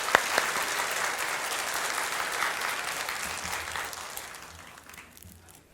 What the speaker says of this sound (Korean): 우리 나오실 때 우리 박수로 맞아주시길 바라겠습니다.